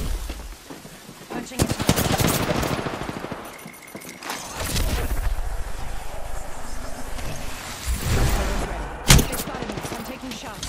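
Bursts of automatic weapon fire in Apex Legends, loud and close, arriving in several rapid volleys with pauses between them, mixed with game effects and someone talking.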